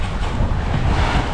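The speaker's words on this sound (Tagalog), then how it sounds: "nalakas na po ulit ang hangin" Strong wind roars steadily over the microphone on a boat at sea, loud and unbroken, with no voices.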